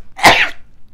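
A single sharp sneeze bursts out close to the microphone, short and loud, with no talk around it.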